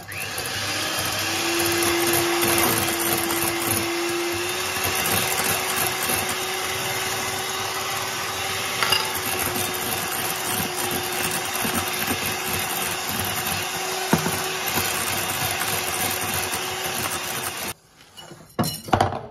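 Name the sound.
mixer whipping egg whites while sugar is added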